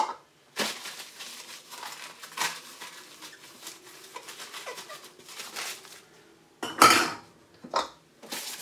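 Dishes and cutlery clatter during washing up, with sharp, close clinks and knocks arriving in irregular bursts between quieter stretches.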